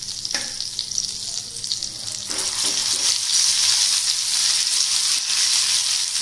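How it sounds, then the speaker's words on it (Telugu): Garlic paste tempering with turmeric and garam masala sizzles steadily in oil over a low flame while gongura chutney is made, a continuous close hiss that grows slightly louder partway through, with a few soft stirring clicks. "సన్న మంట మీదే తాలింపు వేగనివ్వండి, చాలా బాగుంటుంది."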